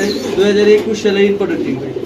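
A male pigeon coos in short throaty rolls at a busy bird market, close and clear, with people talking over it.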